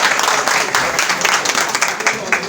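Guests at a welcome gathering applaud in a continuous, fairly loud wash of clapping, with voices mixed in beneath it.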